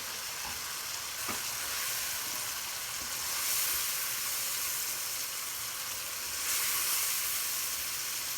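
Tomatoes going into a hot karahi for a seekh kabab karahi, frying with a loud, steady sizzle and hiss that swells briefly twice, with no voices over it.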